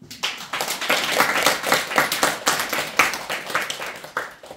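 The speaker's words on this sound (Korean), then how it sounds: "우리 박수 한번 치고 끝냅시다." A group claps together to close a Buddhist dharma talk on Buddha's Birthday, giving a fairly loud, brisk round of applause that swells and then carries on in a steady patter.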